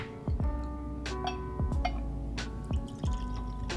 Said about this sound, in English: All right, let's get a pour.